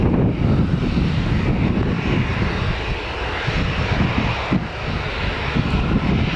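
A plane at Newcastle Airport makes a broad, steady jet-engine roar that holds throughout, mixed with wind buffeting on the microphone.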